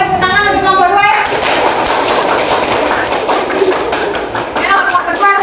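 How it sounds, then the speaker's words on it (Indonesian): Students clap for a presenting group in a classroom lesson, a loud, dense burst of close clapping that fills a few seconds between stretches of a voice talking. "Sebelumnya kita berikan tepuk tangan untuk kelompok 2 ya"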